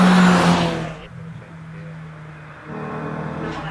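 A Suzuki Swift Sport car climbs a hillclimb course at Prescott, its engine loud at first and then fading to a lower drone before rising again, with a steady engine tone throughout.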